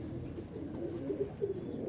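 A light-weight pigeon, a hand-held show bird, gives a few soft, low coos near the end of a brief, quiet moment with a faint background murmur.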